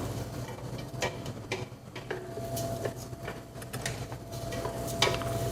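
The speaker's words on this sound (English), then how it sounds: "We'll saute that up a little bit. Yeah, I'll give it a quick stir." Rice being stirred and sautéed in a pan, with soft scraping and scattered clinks of a utensil against the pan over a low steady sizzle, fairly close.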